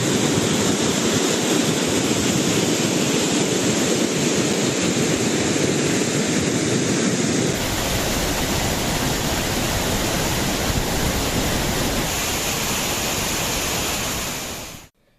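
Water released from the Kabini dam into the Kaveri river rushes in a loud, continuous roar that stays steady throughout and gets slightly harsher midway before cutting off abruptly.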